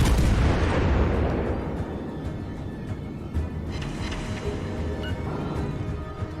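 Heavy naval guns firing in World of Warships Legends during a ship battle: a big booming blast at the start rolling off into rumble, followed by further scattered thuds and pops over a steady low drone.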